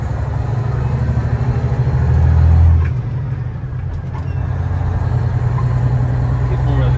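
A Ford Coronado motorhome drives along pavement, its engine giving a loud low drone that rises briefly, then steadies, with faint mechanical grinding. A person talks over the engine noise.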